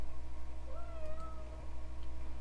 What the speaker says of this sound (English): My orange cat is meowing because I pet her.